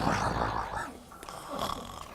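Children doing playful imitations of a bear snoring in its den, a drawn-out rumbling snore followed by a second shorter one, fairly quiet and close with a room's murmur around it.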